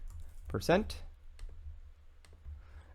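A handful of quiet, isolated keystrokes tap on a computer keyboard, spaced apart after a brief vocal sound, with a faint steady room hum underneath.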